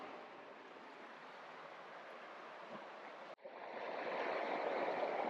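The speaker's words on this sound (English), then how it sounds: "Water coming. Oh yeah, there's the source." Hot spring water rushes from its source beside a riverside soaking tub, a steady close hiss of flowing water that briefly cuts out and returns louder.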